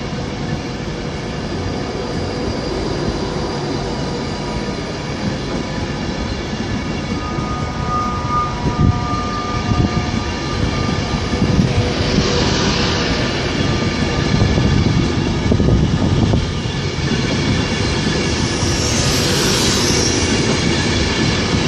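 A train pulls out of Birmingham International station with a steady rolling rumble and rail noise throughout, faint wheel squeal and passing clatter rising midway, with no talking.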